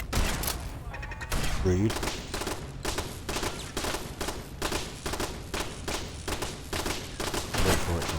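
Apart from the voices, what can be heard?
gunfire in Fallout 4 video game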